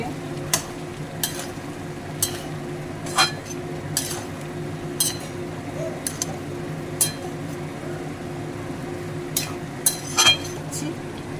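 Vegetables being stirred and turned in a pan, with sparse, sharp scrapes and clinks of a utensil spread out over a steady low background hum.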